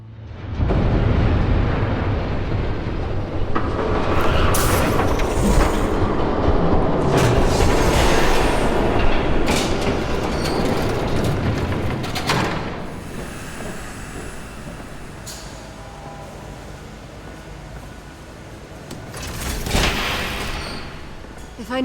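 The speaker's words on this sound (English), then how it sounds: "There's a train coming." A train approaches in Batman: The Telltale Series, a long, heavy rumbling roar that swells and fades over about twenty seconds, with voices speaking over it.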